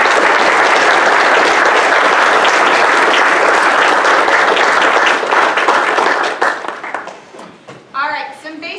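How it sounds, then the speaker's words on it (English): Sustained applause from a conference audience at a sports analytics welcome session, loud and dense for about six seconds before fading into scattered claps and a voice starting to speak. "we could give them a round of applause"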